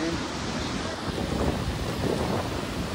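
Sea waves and wind at a beach near Karachi, a steady broadband roar of surf with heavy wind buffeting the microphone, loud and continuous throughout.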